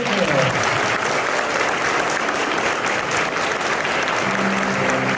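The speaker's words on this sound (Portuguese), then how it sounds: "Um aplauso bonito para os nossos jovens." Steady, dense applause fills a church gathering at a Franciscan evening event, warm and sustained from a crowd honouring young people, with a faint voice near the end.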